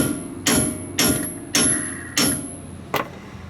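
Five sharp metallic hammer strikes on a stuck bolt on a Bronco, at a slow, uneven pace, each ringing briefly before the next blow.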